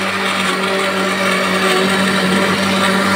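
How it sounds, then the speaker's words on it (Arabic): A blender runs steadily at high speed, a loud continuous whirring motor churning thick cake batter, with no pauses. "ضربنا الحاجة في الخلاط، اللي هي ضربناها في الخلاط."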